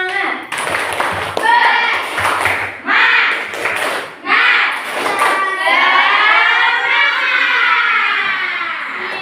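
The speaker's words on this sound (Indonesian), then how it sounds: "yuk ice breaking dulu. Tepuk semangat." A school class doing the 'tepuk semangat' ice-breaker, rhythmic group clapping in several quick bursts mixed with children's shouts and chanting, loud and close in a classroom.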